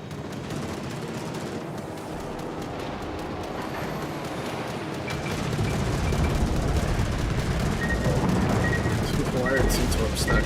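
Naval gunfire from a World of Warships: Legends battle, with a dense rumbling barrage of booms and rolling low thunder that swells louder midway, while a voice talks over it.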